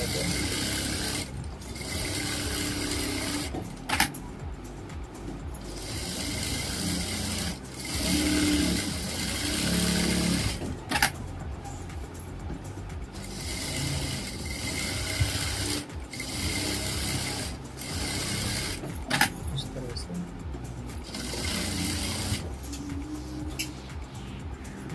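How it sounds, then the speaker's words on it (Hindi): Sewing machine stitching a Patiala salwar, running in long continuous mechanical rattling stretches with brief pauses and clicks between runs, close up, with no talk. "इस तरह से लंबी लंबी सिलाई मार ली है मैंने।"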